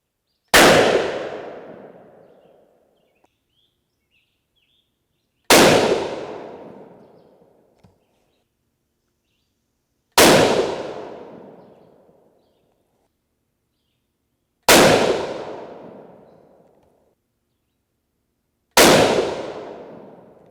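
Five loud, sharp rifle shots from a .243 Winchester firing 85gr Sierra GameKing bullets over a 42.3-grain IMR 4451 powder charge, spaced about four to five seconds apart, each with a long echoing decay and no talking.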